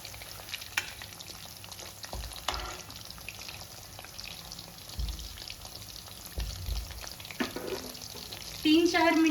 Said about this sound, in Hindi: गरम तेल में ही हमें चिकन लॉलीपॉप को फ्राई करना है